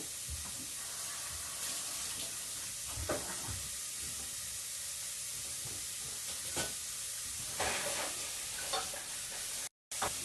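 Carrots, onions and celery sauté in a hot pan for dhal. A steady sizzle runs throughout, broken by intermittent scraping and stirring clatters, and no one speaks.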